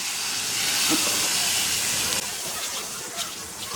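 Turmeric and chili powder hit hot oil for a tempering, giving off a loud, steady, close sizzling hiss that holds throughout.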